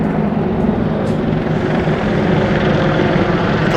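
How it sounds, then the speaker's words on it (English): A pair of Apache military helicopters passes overhead in London, their loud, dense rotor and engine roar filling the air without a break. "A couple of Apache helicopters going overhead."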